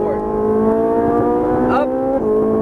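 A sports car accelerates hard on a Las Vegas race track, its engine note rising loud and steady with a brief pitch dip near the end as it exits a left-hand corner, a driving instructor's voice audible over it.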